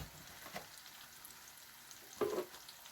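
Peppers frying in a pan on a home stove, a soft steady sizzle with a brief louder crackle near the end, quiet and close.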